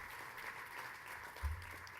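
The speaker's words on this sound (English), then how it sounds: "A round of applause for this lady, please." Audience applause at an official chamber of commerce launch event: dense, steady clapping from a crowd that holds at an even level throughout.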